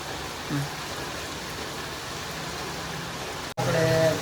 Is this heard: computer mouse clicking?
no